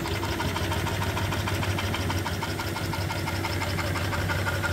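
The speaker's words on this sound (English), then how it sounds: "I brought it out to fire it up to make sure the engine was running just fine" An antique steam engine fed by a boiler and driving an overhead line shaft runs steadily with a rapid, even mechanical chugging and clatter, loud and close, with no talking.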